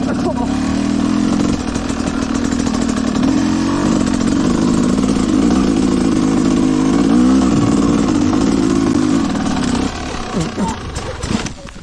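An enduro motorcycle engine drones loudly and steadily, its pitch wavering as the throttle changes, then drops away near the end.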